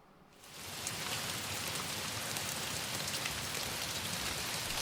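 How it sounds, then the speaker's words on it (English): Steady, dense rain pattering on a surface fades in within the first half second and then holds even and close as a sample in a rally house music track, with no voices. "the peaceful rain"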